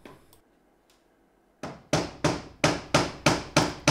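Sharp, loud, evenly spaced impacts, about seven in a row, ring out as old nailed wooden wall trim, roughly a century old, is hammered and pried off, after a quiet stretch with a few faint knocks.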